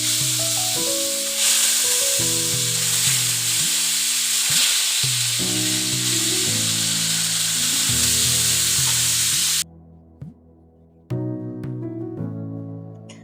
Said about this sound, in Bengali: এখন মাছ ভেজে নেবে